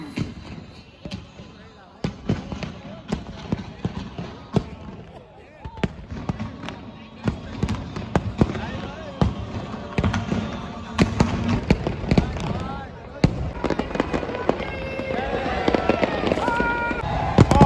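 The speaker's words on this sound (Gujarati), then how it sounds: "ભાઈ ખતરનાક આતશબાજી થાય છે" Fireworks crackle and pop in rapid bursts, loud and continuous, with a crowd and voices underneath, at an event at Somnath.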